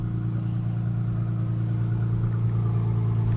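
A Ford Mustang engine runs steadily at a constant idle-like rumble, close and continuous throughout with no talk over it.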